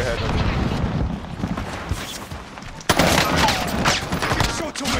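Rapid bursts of automatic gunfire from Call of Duty Vanguard's Caldera map, BAR rifle in use, crackle loudly beneath a player talking over the action, with a sharp close volley midway.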